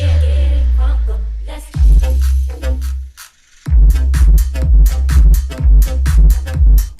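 Vocal build-up effect layered over white noise in a crunk-style electronic track, with heavy rhythmic drum hits returning after a short dropout and dense stabs continuing loudly to the end.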